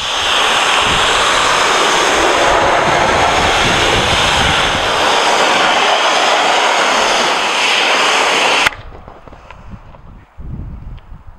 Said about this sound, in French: on va utiliser un compresseur à eau pour nettoyer le dedans des ailes